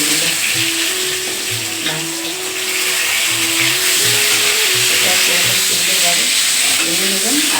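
Lentil dumplings (bori) fry steadily in hot oil for a Bengali fish curry, a continuous close sizzle under soft background music tones, with no voice.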